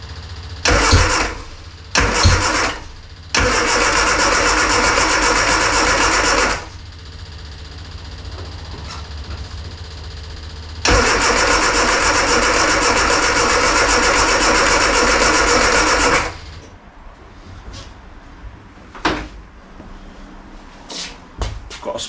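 A classic Mini engine in a workshop cranks in short bursts, then catches and runs loudly for several seconds, stops, and fires again into another sustained run before cutting off, leaving quiet shop noise.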